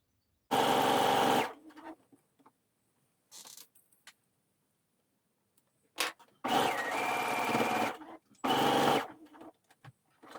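A sewing machine stitches the hem of a T-shirt in three loud, steady runs of a few seconds each. Brief clicks and handling noises fill the quiet gaps between them, and no one speaks.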